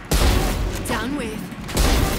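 Gunfire in the shooter game Valorant comes as dense bursts at the start and end of the moment, with a voice talking excitedly between them.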